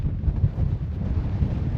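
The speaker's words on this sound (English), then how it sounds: "just trying to keep out of the wind." Winter wind on a snowy mountain above the Devil's Staircase in Glencoe, buffeting the microphone in a low, gusty rumble that stays steady and close.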